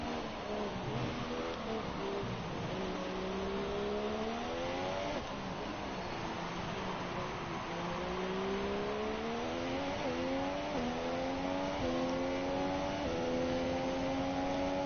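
Race car engine in an Abu Dhabi race within a racing video game career mode, revving steadily and loudly throughout, pitch climbing and dropping with repeated gear shifts, continuous and close.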